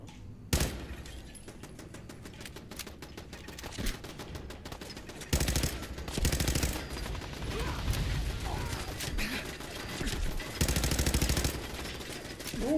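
Automated turrets in Fallout 4 open fire in rapid mechanical bursts, dense rattling volleys that come and go in loud stretches over a constant background of game noise.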